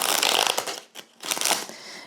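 Tarot cards are shuffled by hand in close, crisp riffling bursts with a brief pause in the middle, loud and near, with no talking.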